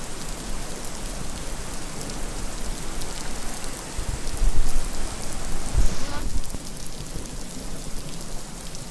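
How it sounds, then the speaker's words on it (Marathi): Heavy rain falls in Sinnar, Nashik, during a cloudburst-like downpour, a dense continuous roar of water on surfaces that swells midway and then eases slightly. "गेल्या 4 दिवसांपासून सिन्नरमध्ये सातत्यानं पाऊस पडतोय"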